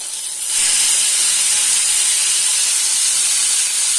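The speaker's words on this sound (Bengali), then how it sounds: "আদা পেঁয়াজ রসুন কাঁচা লঙ্কার পেস্ট আমি দিয়ে দেবো তেলে" Ginger, onion, garlic and green chili paste hitting hot oil for Bengali mushroom masala, a loud sudden hiss that jumps up after half a second and holds as a steady, close sizzle to the end.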